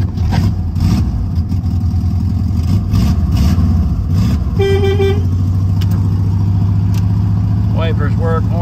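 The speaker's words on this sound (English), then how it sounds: "horn works" A 1994 Volkswagen Beetle idles with a steady engine rumble, then its horn gives a brief honk partway through. Close and loud throughout, with some faint vehicle noise after the honk.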